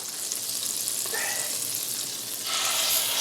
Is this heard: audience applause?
no